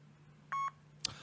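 An answering machine gives a short electronic beep before a message is recorded. One clean tone sounds briefly and is followed by a faint click, with a quiet hum underneath.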